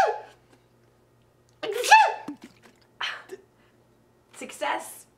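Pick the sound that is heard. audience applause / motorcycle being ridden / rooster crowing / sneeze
sneeze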